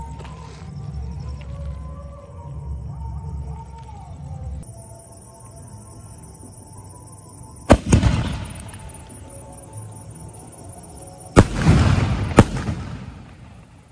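Firecrackers and fireworks being tested outdoors: a low rumbling background, then two sharp loud bangs several seconds apart, each followed by crackling bursts and fading rumble.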